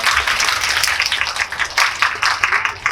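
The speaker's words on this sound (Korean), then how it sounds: "네, 박수 부탁드립니다" A cinema audience at a Megabox COEX film talk event for the Korean movie Confidential Assignment 2 gives dense, loud applause that swells and pulses continuously close by, with scattered voices in the crowd.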